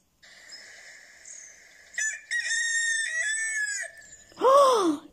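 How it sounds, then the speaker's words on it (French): A rooster crows several times, loud and close, its drawn-out, wavering calls rising and falling. It ends in a strained, high cry, with no talking. "Oh, c'est le coq."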